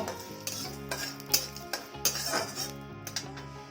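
A spoon stirs a pinch of asafoetida into fried curry leaves in a metal pan for lauki raita. Several distinct scrapes and clinks ring out close by over a soft, steady tonal background.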